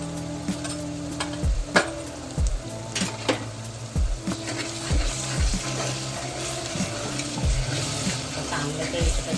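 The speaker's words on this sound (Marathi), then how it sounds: "चांगलं तेल तर आपण भाजून घेऊया." Red chili powder and homemade masala spices sizzle and fry in hot oil for spicy misal, a steady crackling hiss with occasional stirring scrapes, close and continuous.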